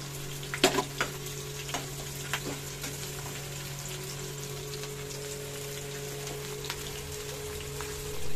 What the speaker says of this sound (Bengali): হালকা করে ফ্রাই করবো। এর সাথে আমি কাঁচা লঙ্কাটাও দিয়ে দিচ্ছি